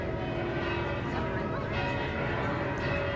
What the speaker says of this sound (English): there we go, the Duomo is ringing the bells.